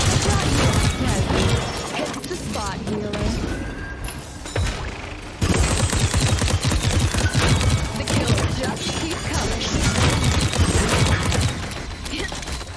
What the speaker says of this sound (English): I was just shooting and reloading.